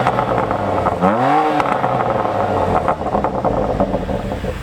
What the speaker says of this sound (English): So just 5K revs, you get some burbles.